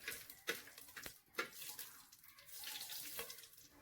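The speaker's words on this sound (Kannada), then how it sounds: "ಅನ್ನ ಬೇಯಲಿಕ್ಕೆ ಎಷ್ಟು ನೀರು ಬೇಕು ನೋಡಿ ಅಷ್ಟು ನೀರು ನಾನಿಲ್ಲಿ ಹಾಕ್ಕೊಳ್ತಾ ಇದ್ದೀನಿ" Water pours steadily into a cooking pot for village-style mutton dum biryani rice, a soft continuous splashing with a few brief louder splashes, fairly quiet and with no talk.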